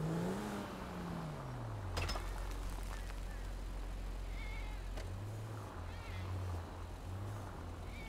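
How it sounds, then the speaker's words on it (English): A cat meows in GTA 5, a drawn-out wavering cry at the start followed by softer meows, set over a low rumbling vehicle engine and ambient game noise. "I thought I heard a cat."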